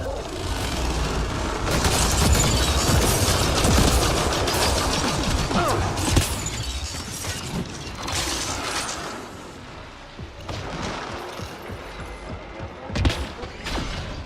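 Heavy sustained gunfire poured onto a large enemy in the sci-fi shooter Mass Effect Andromeda, with dense bursts and booming impacts running almost the whole time, easing briefly before another loud hit near the end.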